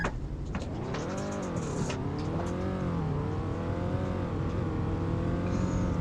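A 2017 Honda Civic engine hums steadily while reversing, a continuous close, fairly loud drone with gently wavering pitch and a brief higher whine near the start.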